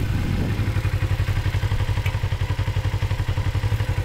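A Kawasaki Ninja motorcycle rides a gravel road, its engine a loud, close, steady throbbing rumble with rapid even pulses, and faint clattering from the loose surface mixed in.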